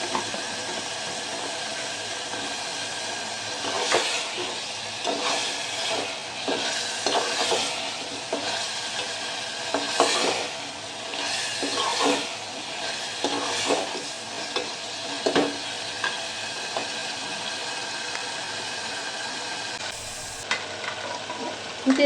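Potatoes frying in a pan for a catfish curry, with a steady oily sizzle and intermittent stirring scrapes and knocks from a spoon, close and moderately loud with no talking.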